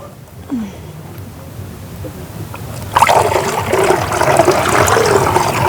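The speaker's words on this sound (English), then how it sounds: "It is time for us to add some water to our zonko." Water gushes and splashes loudly into zonko, a drink, starting abruptly after a quiet moment and continuing as a steady pour close by.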